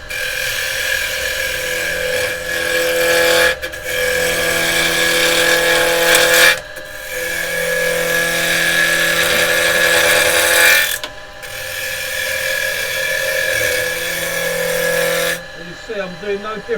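A carbide chisel cuts scrap wood spinning on a lathe, a loud continuous whirring, chattering cut that breaks off briefly three times before resuming, with a voice talking near the end.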